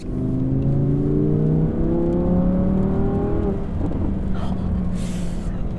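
An Audi R8 RWS sets off and accelerates, its engine climbing through rising revs with gear changes, loud and close throughout.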